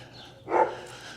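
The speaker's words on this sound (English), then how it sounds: "It is some big dogs over there." Big dogs barking somewhere in the distance in early morning, a single muffled bark rising briefly from a quiet outdoor background.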